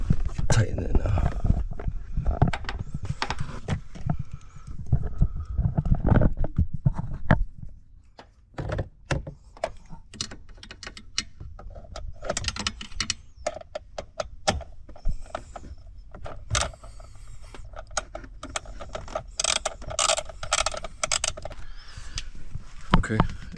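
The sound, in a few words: tightening soft top part on Honda S2000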